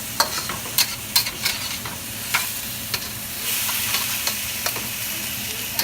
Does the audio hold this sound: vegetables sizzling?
yes